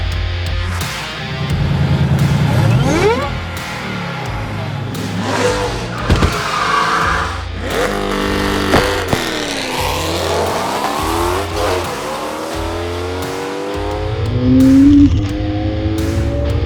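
A Corvette C8 and a Shelby GT350 Mustang drag race, with loud engines revving and roaring through rising gear changes, cars passing and a brief tire squeal, sustained and forceful throughout.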